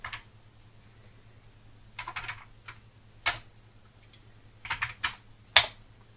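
Gingerly key presses on an Amiga A1200 keyboard fitted with an upgraded hard membrane, heard as sparse, close clicks in small clusters over a low steady hum, with no talking.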